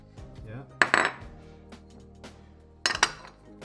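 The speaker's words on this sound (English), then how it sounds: "walnuts, crush them" Walnuts being crushed for a wild rice porridge: two short, sharp bursts of cracking and clinking against a dish, close, separated by quiet.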